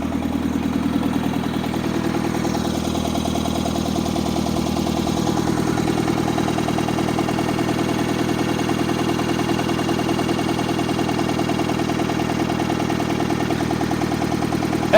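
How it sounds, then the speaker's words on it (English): A 1960s John Deere 1010 tractor engine idles steadily after sitting 18 years, a continuous close mechanical drone with rhythmic clatter and vibration while its loader is worked, no talking. "let's see if the loader will work."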